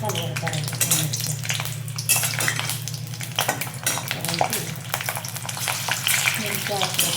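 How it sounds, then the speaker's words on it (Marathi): Green chillies fry in hot oil and are turned over and over, so a busy crackling sizzle rises and falls close by. A faint low hum runs beneath it. "मी तेल ठेवलं आहे आणि ह्या मिरच्या आपल्याला याच्यात टाकून घ्यायच्या"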